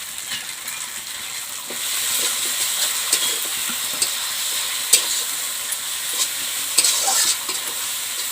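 Spices frying with poppy seed paste for a Bengali fish curry, a soft continuous sizzle broken by stirring scrapes and occasional clacks of a spoon against the pan, with no talk.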